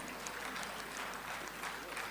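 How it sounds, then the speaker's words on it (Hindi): An audience at a university convocation ceremony applauds as a graduate comes on stage, a dense, even wash of clapping throughout. "सभी तालियों के साथ स्वीटी सुथार का स्वागत करेंगे।"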